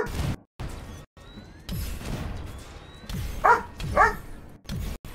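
Dog barking in the video game Marvel's Avengers: two short, fairly loud bark bursts land near the middle of the clip, set among game sounds and thuds.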